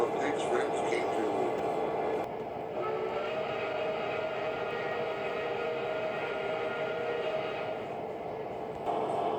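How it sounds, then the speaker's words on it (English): A train whistle sounds, a steady tonal wail carried over a continuous rumbling rail-car background at moderate distance. "it sounded like a whistle"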